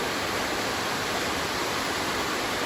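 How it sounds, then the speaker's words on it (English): A waterfall near a creek on the Pacific Crest Trail gives off a loud, dense, unbroken rush of falling water that fills the whole stretch, with no voices. "Oh, beautiful waterfall."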